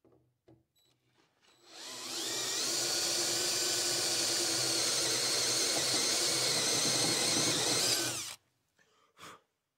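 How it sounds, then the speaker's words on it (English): Power drill with a DeWalt cobalt bit boring through clamped, stacked metal bracket plates: a loud steady whine of about six seconds, close, with a few faint clicks before and after. "Drilling through multiple sheets of metal like this is really hard on drill bits"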